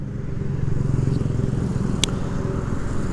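A Yamaha MT15 motorcycle engine in sixth gear at about 30 km/h drones low and steady, a deep even rumble with a brief click partway through, no voices.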